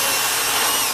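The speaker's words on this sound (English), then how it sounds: "So we're drilling holes and we're gonna make new nursery troughs." Power drill boring holes in hydroponic lettuce troughs inside a winter greenhouse, a loud continuous whirring grind held steady at close range with no talk.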